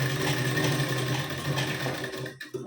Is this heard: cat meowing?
no